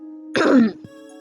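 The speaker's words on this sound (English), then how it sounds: "Sorry to keep coughing, you guys." A single short throat-clearing cough from a woman, close and fairly loud, one burst alone over a steady low hum.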